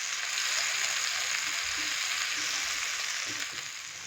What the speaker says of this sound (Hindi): टमाटर डालने के बाद हमने टमाटर को भी हल्का सा फ्राई कर लिया है